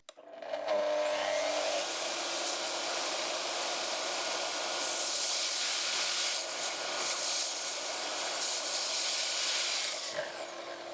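A power saw hooked to a dust-extraction vacuum, both running off a Jackery portable power station, whines steadily and loudly for about ten seconds after a quick spin-up, with a brief dip near the end.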